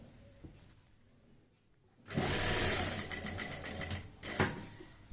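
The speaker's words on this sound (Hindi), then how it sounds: "इसके बाद हमें यहाँ पे सिलाई लगानी है।" A sewing machine stitches a Punjabi kurti. A quiet start gives way to a loud burst of fast mechanical whirring and rattling after two seconds, which continues with a brief surge near the end.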